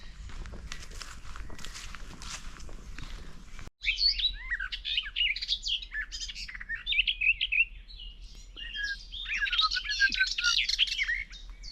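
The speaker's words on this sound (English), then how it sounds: "It's a very small bird" A small, chatty songbird in the Ardennes forest sings rapid, bright warbling phrases close by, preceded by footsteps crunching on a forest trail before the song begins.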